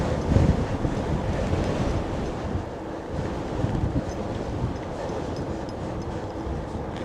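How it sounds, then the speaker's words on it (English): Strong wind buffets the microphone during a mountain bike ride around Wellington in a steady, loud low rumble with gusty surges, and no voices are heard. "Still very windy."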